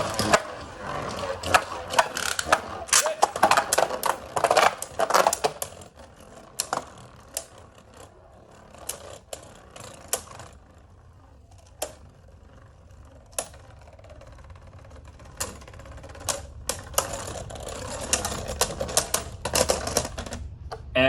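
Beyblade spinning tops, including a Zwei Longinus Drake and a Union Valkyrie, clash in a plastic stadium with rapid, sharp clicking and clattering collisions in irregular bursts, close and fairly quiet.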